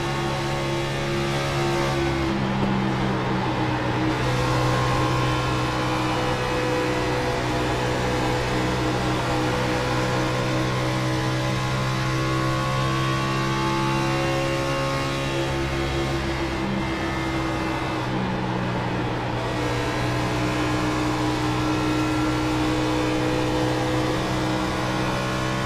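A race car engine in the iRacing video game roars continuously, climbing and holding high revs as it accelerates into turns 1 and 2, loud and steady throughout with no talk.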